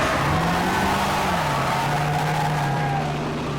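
A drift car's engine revs loudly and steadily, its pitch rising, dipping and climbing again over a few seconds, with no talking.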